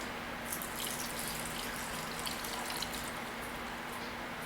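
Liquid potion poured through a fine strainer, a soft continuous trickle and hiss with faint dripping, close and steady, with no talking.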